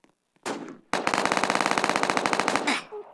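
An SMG fires a long rapid burst in a Roblox PUBG-style shooter game, preceded by a brief short burst, with loud, evenly spaced shots ending in a short tail.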